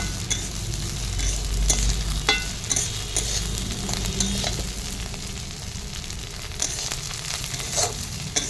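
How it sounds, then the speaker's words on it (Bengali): Onions frying in a pan for a Bengali dried-fish chorchori, giving a steady loud sizzle with stirring scrapes and clinks throughout, no talking. "পেঁয়াজটা ভাজা হয়ে গেছে"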